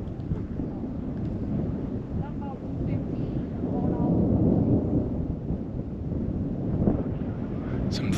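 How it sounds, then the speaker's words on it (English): Wind gusts and thunder from a desert storm in Utah make a steady, dense low rumble that swells slightly midway, with no voices. "Some thunder, some wind."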